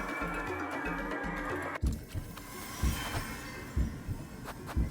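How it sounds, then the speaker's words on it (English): A heartbeat in the video game Little Goody Basket, a low rhythmic thumping that starts after a stretch of droning game music and repeats steadily at close range under a hum. "Quick, stop the heartbeat for eating mushrooms."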